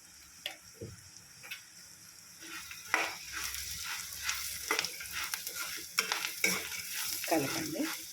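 Chili powder being stirred into food frying in a pan for a puffed-rice tempering, with a steady sizzle and repeated scraping strokes of a spoon against the pan, close and clear.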